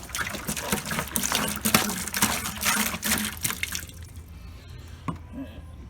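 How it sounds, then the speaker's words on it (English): Water poured into a bucket while mixing homemade concrete for a DIY weight plate, a steady splashing pour for about four seconds that then stops, leaving a quiet tail with one faint drip. "I'm just basically going to pour it into the bucket."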